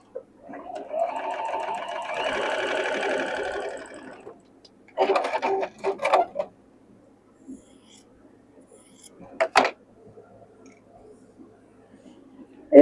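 A sewing machine stitches quilt block pieces together in a steady whirring run of a few seconds, followed by shorter bursts and a faint tick, with no talking.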